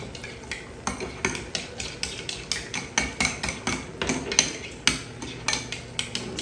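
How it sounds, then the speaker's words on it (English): A spoon stirring picante sauce and sour cream together in a bowl to make a dip, giving steady rhythmic scrapes and taps roughly every half second, close and clear, with no talking. "Stir that around."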